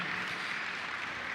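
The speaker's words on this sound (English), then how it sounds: "A huge round of applause for our legends here." A large audience applauds steadily after an on-stage conversation with cricketer Anil Kumble and long jumper Anju Bobby George, a dense even wash of clapping throughout with no voices above it.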